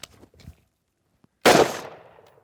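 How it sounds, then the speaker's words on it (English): A single carbine rifle shot fired at a downrange target on a training range, one sharp loud crack with a short decaying tail, preceded by faint voices and a soft click. "We'll fire a single shot from the snap to our target downrange."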